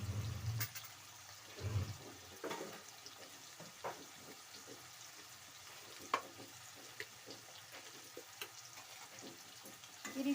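Turmeric, garam masala and other spices sizzle in oil for a vangi bath tempering, a quiet continuous hiss with scattered soft pops and crackles, heard close but faint.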